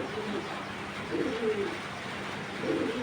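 Racing pigeons in a loft give soft, low throaty coos in short repeated phrases, close and clear over a steady background hush.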